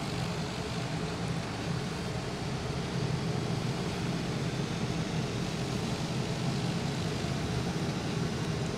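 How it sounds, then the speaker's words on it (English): A Lear Fan 2100 turboprop taxis in Microsoft Flight Simulator, its engine a steady, even drone with broadband rumble and no talking. "So now I will just go and taxi on up to the end of the runway"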